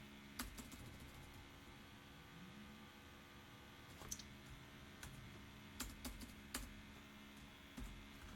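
Sparse, quiet keystrokes on a computer keyboard while writing Java Stream API code, a few scattered taps over a steady low hum, with no talking.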